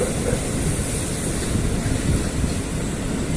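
A commuter train pulls into Manggarai station, giving a steady, loud rumble of wheels and engine noise that fills the whole stretch with broad hiss on top and no clear voices.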